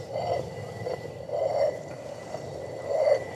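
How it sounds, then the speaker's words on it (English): A stone rotary hand quern grinds grain into flour in a medieval setting, giving a rough, rasping scrape that swells and fades in slow rhythmic turns about every second and a half, with no voices. "A rotary quern like this"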